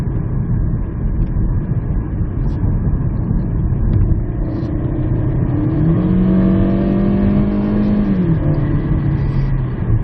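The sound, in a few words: Kia Stonic engine accelerating at full throttle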